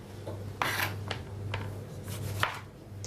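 Tomatoes cut with a knife for cooking: a handful of soft, unevenly spaced chops close by, set against a steady low hum.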